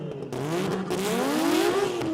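A race car at a street performance jamboree revs and lets off the throttle with an exhaust burn, producing a loud, close engine note that swings up and down in pitch with crackling exhaust.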